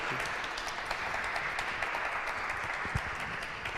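Audience applause after a ministry workshop session, a steady wash of many hands clapping at moderate distance, fairly quiet and even throughout with no talking over it.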